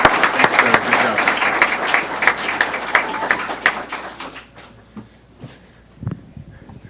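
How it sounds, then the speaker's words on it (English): Audience at a school board of education meeting applauding a teacher, loud dense clapping that thins and fades out after about four seconds, leaving a few scattered claps and faint room noise. "round of applause for Miss Lane"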